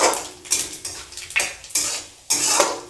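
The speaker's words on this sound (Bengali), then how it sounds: "ভালো করে নাড়াচাড়া করে নিতে হবে।" Small spoon scraping and clinking against a pan while panch phoron spices are stirred, a series of sharp metallic strokes about every half second, close and fairly loud, with no talking.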